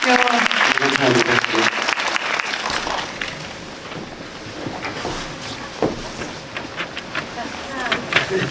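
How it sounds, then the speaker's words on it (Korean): An audience at a Korean film screening and Q&A bursts into loud, close applause for about three seconds, then it fades into scattered clapping and talk. "박수 한번 부탁드립니다"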